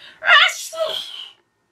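A voice imitates a single loud sneeze, a sharp close burst followed by a trailing breathy exhale, then silence.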